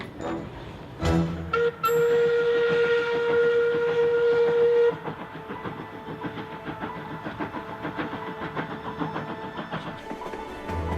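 An old passenger train, the Afghan Express, blows a long steam whistle and then rolls on with rhythmic clattering of wheels over rail joints and a steady engine rumble, close and loud.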